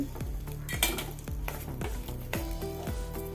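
Radish stir-fry stirred in a pan, a spoon scraping and knocking against the metal in quick repeated strokes over a faint sizzle, close and fairly quiet.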